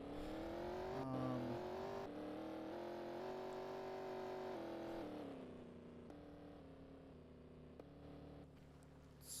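A hypercar engine drones from inside the cabin while driving, with a steady mid-pitched hum that rises in tone, then settles lower and quieter partway through. No voices can be heard.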